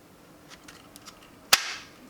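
A T1C Axis Elite holster snaps into its positive lock with one sharp, loud click. A few faint, light ticks come before it, and the click rings briefly into a fading hiss. No one speaks.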